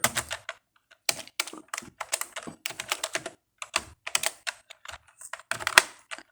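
Rapid computer keyboard typing while writing JavaScript code, clattering keystrokes in irregular bursts with brief pauses, close and clear with no talking.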